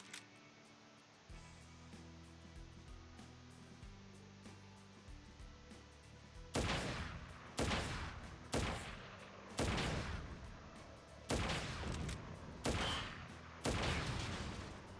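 Gunfire from the video game Final Fantasy 7 Reunion on PS5: after a quiet opening, about seven loud bursts of rapid automatic fire come in quick succession, each lasting around a second.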